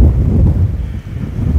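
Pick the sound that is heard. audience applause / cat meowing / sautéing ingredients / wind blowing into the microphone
wind blowing into the microphone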